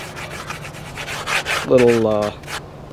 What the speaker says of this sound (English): sand this with like maybe a 120 grit sandpaper, sand it smooth